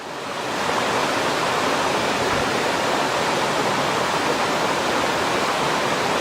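A waterfall roars as a loud, steady rush of falling water that swells in over the first second, then holds constant with no voices.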